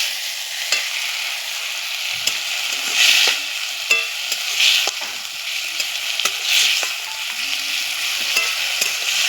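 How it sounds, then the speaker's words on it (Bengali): Ginger-garlic paste and onions fry in a pan for a spicy fish curry, a steady close hiss broken by repeated sharp scrapes and clicks of stirring. "আদা রসুনটা কষানো হয়ে গেছে"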